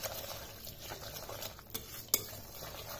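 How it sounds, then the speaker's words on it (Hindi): A spoon stirs sooji (semolina) cheela batter mixed with chopped vegetables and a little water in a bowl, a soft continuous wet scraping with a light clink of the utensil near the end, quiet and close. "इसको हम सबको मिक्स करेंगे"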